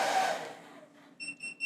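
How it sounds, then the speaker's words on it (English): UGREEN PowerRoam 1024Wh portable power station tripping on overload protection, three short beeps close by after a hiss fades out. "It is beeping at me and it displayed a F43 overload protection error."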